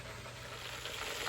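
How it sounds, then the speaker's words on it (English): Southern fried chicken pieces, just flipped, sizzle steadily in hot frying oil: a close, continuous crackling hiss that holds level and grows slightly louder toward the end, with no voices. "And they are sizzling away."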